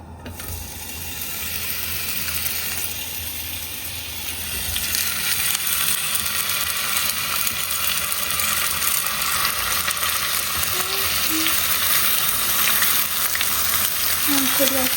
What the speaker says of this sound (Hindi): अभी मैंने ऑयल गर्म कर रही हूँ।